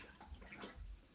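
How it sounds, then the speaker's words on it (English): A paintbrush dipped and swished in a container of water to wash off water-soluble chalk paste, giving soft, quiet sloshing and light gurgling splashes, close and alone. "You can wash your paintbrush with just dipping it in water"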